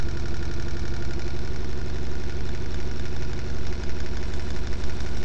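A Bedini motor's spinning wheel runs at about 700 RPM, giving a loud, steady mechanical hum with a fast regular pulsing throb throughout, close up and with no voices.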